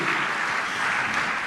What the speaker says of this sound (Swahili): Pigie Bwana makofi mengi.